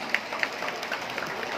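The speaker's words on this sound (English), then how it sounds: "A round of applause, please." An audience applauds at a municipal community day celebration, a continuous crowd clapping texture with a few sharper nearby claps standing out.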